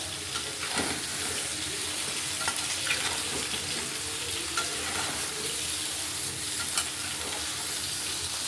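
Drumsticks and potatoes frying in a pan with fish masala, stirred steadily, producing a continuous dense sizzle with soft scraping clicks of the spoon throughout.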